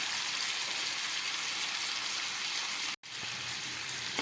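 Chicken pieces fry in butter with a dense, even sizzle that runs throughout, broken by one sudden brief dropout before the crackling resumes.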